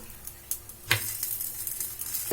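Semolina and vermicelli snack frying in a pan, a steady soft sizzle with a few light scraping and tapping knocks as the pieces are turned over, no talking.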